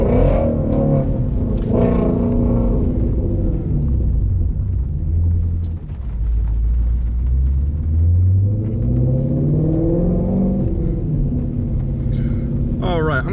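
A Shelby GT350 with its exhaust open pulls hard, a loud close rumble that dips, then climbs in a long rising sweep of revs and drops again. A voice talks over the engine.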